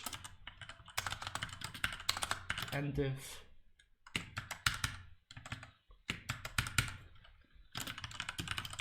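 Rapid clattering keystrokes on a computer keyboard while coding, coming in close bursts separated by short pauses as someone talks over parts of it.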